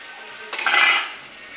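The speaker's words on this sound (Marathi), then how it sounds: "आणखी थोडा चांगला रेडनेस येईपर्यंत यांना फ्राय करून घेऊ." Prawns fry in a pan for a village-style spicy prawn dish, with a steady faint sizzling hiss and one brief scraping stir of a utensil across the pan that swells and fades.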